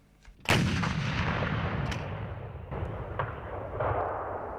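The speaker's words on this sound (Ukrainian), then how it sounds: "Військовослужбовець із позивним Ромео на навчаннях відпрацьовує стрільбу з гармати МТ-12 Рапіра." An MT-12 Rapira anti-tank gun fires once during training with a sharp, powerful boom, followed by a long rumbling echo and smaller distant reports rolling across open ground.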